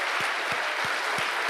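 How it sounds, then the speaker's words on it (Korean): A church congregation at a Korean worship service claps in unison, a steady wash of applause with strong beats landing about every third of a second. "우리 이럴 때 우리 하나님께 영광의 박수 한번 드립시다."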